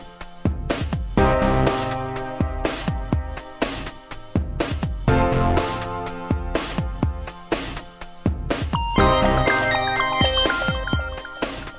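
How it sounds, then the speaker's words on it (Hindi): A mobile phone rings with a repeating melodic ringtone, loud and close, in rhythmic bursts of bright chiming tones with short gaps between them and no speech over it. "फ्रिज तुम्हारा फोन बज रहा है यार।"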